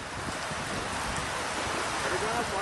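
Heavy downpour in Gadhada town, Botad area of Saurashtra, Gujarat, a dense steady hiss of rain with a wind-like rush, continuous and fairly loud throughout.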